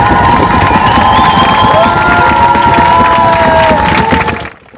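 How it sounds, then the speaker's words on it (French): At a film festival in Contis, a large crowd cheers, whoops, claps and shouts loudly and continuously, with children's voices among them, before the noise cuts off abruptly at the end. "vous tapez des pieds d'abord, ensuite les mains, et après vous hurlez comme s'il y avait Tony."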